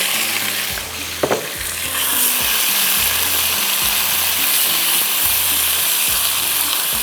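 Minced meat sizzles loudly in a pan with tomato ketchup and other sauces, a dense continuous hiss broken by a sharp clatter early on and repeated soft scraping strokes of stirring.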